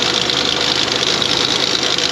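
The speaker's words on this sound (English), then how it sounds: "I'm not too thrilled to hear this rattle noise." Volkswagen 2.0L engine running with a rattle, a loud, steady mechanical clatter and hum close up, continuous with no talk.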